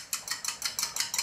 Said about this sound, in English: what we're going to do is just beat the egg